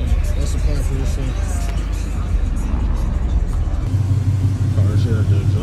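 Loud engine rumble and idling cars in a busy exhaust shop, with a deep steady drone and clanking, with someone talking over the noise.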